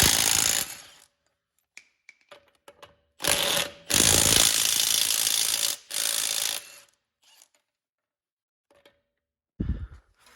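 Lug nuts on the front wheels of a jacked-up Mazda FC RX7 are zapped off with an impact gun, several short bursts of whirring and rattling separated by pauses, fairly close.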